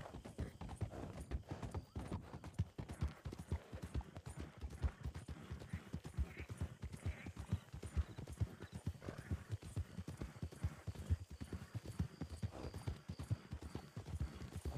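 Horse hooves clip-clop in a steady, close rhythm on a street for the whole stretch, with no talk over them.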